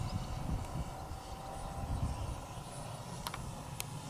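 XFly-Model Red Twinliner, a small twin EDF RC jet, cruises at half throttle with a steady, continuous airy whoosh and hum, with a couple of brief high clicks near the end.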